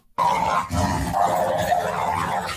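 A dog growls loudly and close at the opening of a song, a sustained rough snarl with a few throaty bursts that continues without pause.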